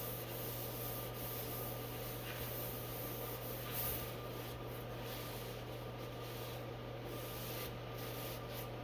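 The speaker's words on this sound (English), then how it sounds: "take a clean dry rag, wipe off the excess" A clean dry rag wipes excess finish off a wooden wall-mounted clothes rack, making a steady, continuous close rubbing and swishing over a constant low hum, with no talking.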